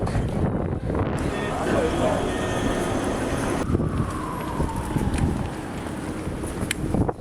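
Strong wind buffeting the microphone in a continuous roar in Oslo, with a low rumble and a voice speaking briefly underneath.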